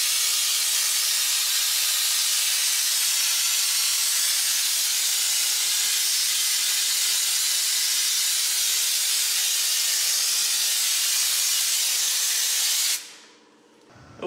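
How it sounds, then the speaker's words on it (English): A loud, continuous hiss of spray-in sound deadener being applied runs steadily for about thirteen seconds, then stops abruptly and a brief hush follows. "that finishes it for the spray-in sound deadener"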